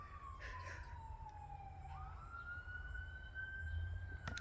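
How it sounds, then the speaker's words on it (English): Emergency vehicle sirens wail outdoors at a distance, a faint pitch sweeping down and then rising again over low traffic rumble. "of course, there's sirens going."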